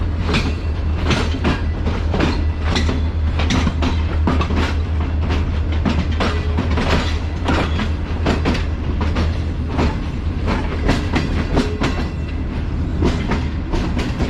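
Shalimar Express train pulling out of Karachi Cantt railway station, a loud, continuous rumble with steady clickety-clack of wheels over rail joints, heard from on board with no talking.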